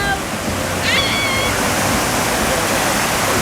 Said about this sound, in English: That's a pretty big wave coming.